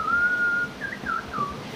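Someone whistles in a comedy skit: a clear, sustained note, then a few short sliding chirps, loud and close with no talking.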